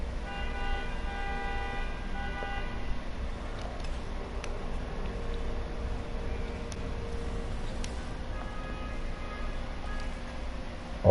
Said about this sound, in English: All that honking.